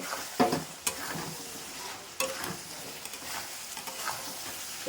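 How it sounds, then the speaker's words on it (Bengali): Prawns and potatoes frying in oily spice paste, a soft continuous sizzle with a few sharp spatula knocks and scrapes as they are stirred close by. "এবার কিন্তু আমি চিংড়িগুলো আর আলুটা দিয়ে ভালো করে কিন্তু কষিয়ে নেব"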